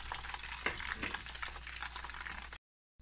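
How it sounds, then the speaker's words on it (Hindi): Chicken legs coated in rice flour and fried crisp give off a close, steady crackling sizzle that cuts off abruptly into silence near the end. "देखें इसका क्रिस्प, देखें ये देखें आवाज़ किस तरह से इसकी आ रही है"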